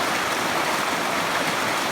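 A swollen creek pours over a waterfall after rain, making a constant broadband rushing roar of fast-moving water, even and unbroken, with no voices.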